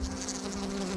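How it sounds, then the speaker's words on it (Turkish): Honeybees buzz in a steady, close drone with a low humming tone while gathering pollen from flowers, continuous for a moment without any voices. "Bak şurada görüyor musunuz arıları?"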